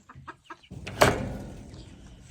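A few soft, quick clucks followed by a sharper squawk from a chicken nearby, fading out afterward.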